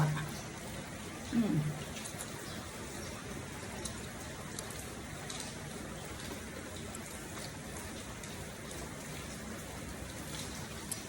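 Steady rain falls on a rainy day in rural Roi Et province, northeastern Thailand: an even, fairly faint hiss throughout, with a brief low thump near the start and nothing else prominent.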